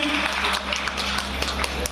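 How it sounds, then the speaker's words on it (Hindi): A seminar crowd in Shahjahanpur claps loudly, a sustained patter of many hands with sharp individual slaps standing out, steady from start to finish over a low background hum. "मैं चाहूंगा सबसे पहले आप लोग अपने लिए जोरदार ताली बजा देंगे।"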